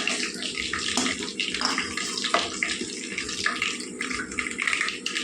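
Dried red chillies frying in hot oil in a pan while cooking dal with ridge gourd and raw mango, a steady close sizzle and crackle running throughout with no talk.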